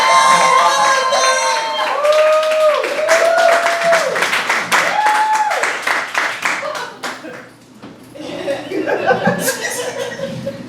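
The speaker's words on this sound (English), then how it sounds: "Yes, everybody start clapping for Jonnea Herman!" A comedy club crowd at a Greenwich Village Juneteenth comedy show claps, cheers and laughs loudly, with whoops over dense applause that thins out near the end as a voice begins over the remaining clapping.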